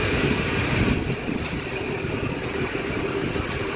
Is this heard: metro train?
yes